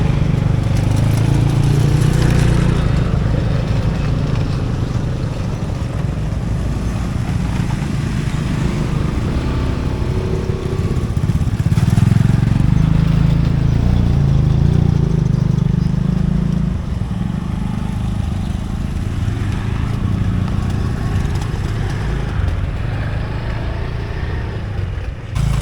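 A queue of motorcycles and cars waiting on a landslide-damaged road, engines idling and revving in a continuous nearby drone, steady throughout with occasional swells.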